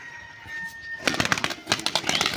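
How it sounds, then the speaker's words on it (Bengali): A Giribaz pigeon flies and tumbles in play. After a second of low quiet background, rapid bursts of wing flapping rise close and loud, then come again in quick flurries. "এই যে পায়রাটা দেখুন আবারও মারবে"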